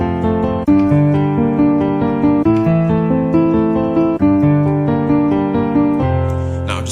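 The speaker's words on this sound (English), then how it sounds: "If I was supposed to use an arpeggio," Close, loud piano arpeggios form a song intro: sustained broken chords roll upward in an even pulse, shifting to a new harmony about every one and a half seconds, with no talking.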